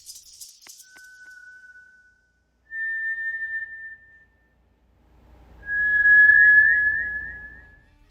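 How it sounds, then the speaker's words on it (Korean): Eerie whistling sound effect of thin, sustained tones, a short faint one followed by two longer, louder notes, the last wavering over a low rumble, set in a quiet, empty space. "점점 휘파람 소리가 가까워지더니"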